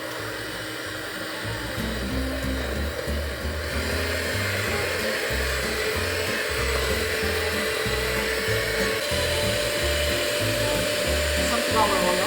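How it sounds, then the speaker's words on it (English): An electric hand mixer whirs steadily, beating eggs and sugar for carrot muffin batter, a close continuous motor whine with a faint rattle of beaters in the bowl. "with the mixer, I'm going to add the sugar"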